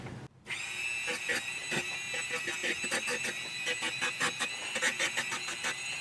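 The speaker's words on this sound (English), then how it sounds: "I've got a whole bunch of these barrel sanders for the Dremel, so I'm not too concerned about hitting them on that steel." Dremel rotary tool running a barrel sander against a steel fret file, a steady high-pitched whine with rhythmic scraping pulses as the sanding drum contacts the metal, close and continuous.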